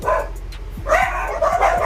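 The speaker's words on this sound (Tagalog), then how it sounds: "Ingay ng aso." A dog barks repeatedly nearby in short, rough bursts, with a steady low engine-like hum underneath.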